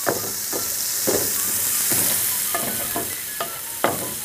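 Curry leaves crackling in hot oil with onions for a tamarind stew, a continuous close sizzle punctuated by regular scraping stirs of a spoon roughly every half second.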